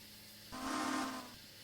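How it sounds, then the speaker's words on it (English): A steam locomotive whistle sounds a salute in a train simulator game on the BFR, one loud sustained blast of about three quarters of a second over a steady low rumble of the engine. "Whistle salute."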